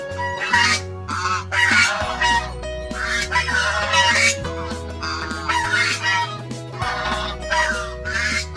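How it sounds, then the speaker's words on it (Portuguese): Harsh, honking goose calls repeat in loud bursts close by over a steady bed of background music, with no talking. "Ganso."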